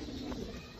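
A Sialkoti pigeon gives a brief, soft coo, faint against a low background hum.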